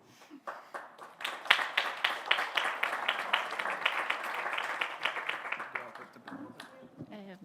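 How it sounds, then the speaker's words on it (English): A stakeholder forum audience applauds a speaker invited to the stage with steady, dense clapping that swells and then tapers off, heard at moderate level from a little distance under faint background voices. "A round of applause, please."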